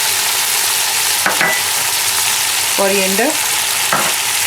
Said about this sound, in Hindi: यहाँ पे जिंजर गार्लिक पेस्ट ऐड कर लें आप पहले अपना, इसको हल्का सा मिक्स करें।